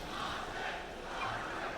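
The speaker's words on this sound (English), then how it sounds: "And we hear the crowd already loving it from Ame." Arena crowd at The International 2025 roaring during an esports Dota 2 match between Xtreme Gaming and Nigma, a steady broad wash of cheering that swells twice and stays loud throughout.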